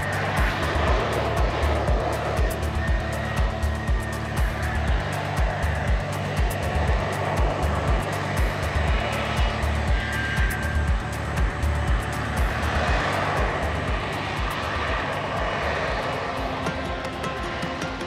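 A short takeoff and vertical landing jet performs at the Sun n Fun airshow, its engine a loud, continuous roar with pulsing rumble that holds steady throughout.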